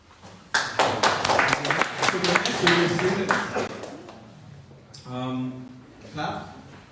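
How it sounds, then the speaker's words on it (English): An audience at a final presentations event claps in a brief burst of rapid, dense applause, which fades out as a voice talks over it. "Clap."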